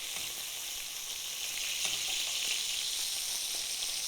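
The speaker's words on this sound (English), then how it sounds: "I like to just press it down to make sure we're getting a nice even sear." Brisket searing in a pan over medium-high heat, pressed down against the surface, giving a steady broad sizzle with faint pops, even and continuous, no voices.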